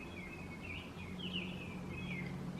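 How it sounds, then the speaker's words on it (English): Birds sing continuously in the background, high repeated chirps and trills over a steady low hum, no voices. "birds are really loud."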